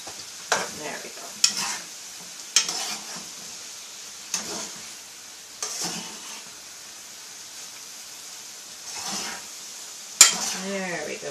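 Shrimp, onions, sweet peppers, garlic and brown rice pasta sizzle softly in a pan as they are tossed with tongs, giving several sharp clacks and scrapes between quieter frying hiss.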